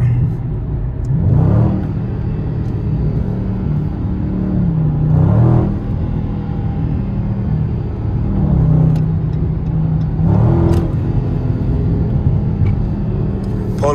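Dodge Scat Pack engine in track mode drones loudly through traffic, rising in repeated revving surges every few seconds, heard from inside the car with a low rumbling undertone.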